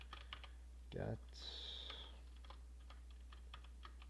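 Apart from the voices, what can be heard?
typing on a computer keyboard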